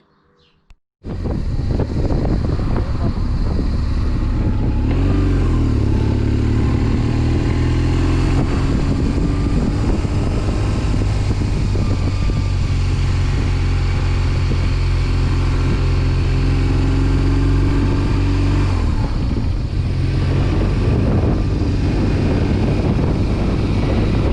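A motorcycle starts off on a road and rides steadily, a loud continuous engine drone mixed with heavy wind rush on the helmet microphone and a few gear shifts, no talking.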